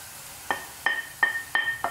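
Spices stirred in a hot pan for a Kerala pulisseri, a spoon scraping the metal in five sharp, evenly spaced strokes over a faint sizzle, close and fairly loud, with no voices.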